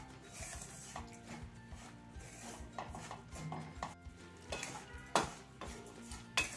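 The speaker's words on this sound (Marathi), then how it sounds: "आपण हे पीठ भाजतोय बघा" Corn flour roasts dry in a pan while a spatula stirs it, making repeated scraping and rubbing strokes with light clinks of metal over a faint sizzle, fairly quiet and close.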